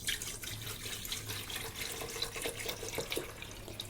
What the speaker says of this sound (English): I'll put the fertilizer into my watering can